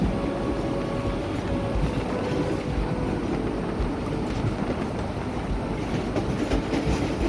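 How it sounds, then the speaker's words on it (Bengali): A fast-moving train heard from inside, a dense continuous rumble and roar with rhythmic rattling of the carriages, loud and steady throughout without pauses. "ট্রেন চলছে"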